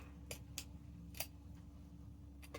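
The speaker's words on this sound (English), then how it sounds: "I'm just gonna cut that piece off." Scissors snipping through a small piece of fabric, with a few quiet, crisp snips spaced apart against a low steady background hum.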